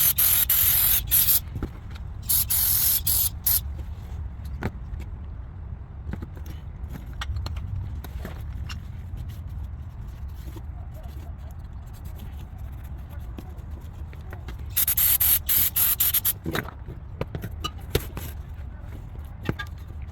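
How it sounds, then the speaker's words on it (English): Carb cleaner sprayed in short hissing bursts onto the engine of a 2010 Mercedes-Benz C300, two strong bursts near the start and another cluster later, with quieter rubbing and handling noises between them. "But first let me use some carb cleaner and clean it up first."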